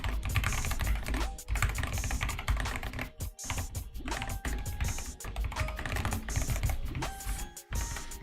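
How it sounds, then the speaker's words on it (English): Fast, continuous typing on a new computer keyboard during coding, with dense clacking keystrokes close to the microphone and only a few tiny gaps over the whole stretch. "this keyboard is killing me"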